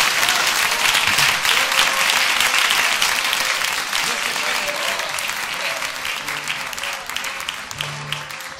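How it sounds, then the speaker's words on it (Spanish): A church congregation gives a strong round of applause during a Spanish-language evening worship service, with dense continuous clapping that slowly thins, plus a few voices mixed in. "Démosle un fuerte aplauso a nuestro Señor."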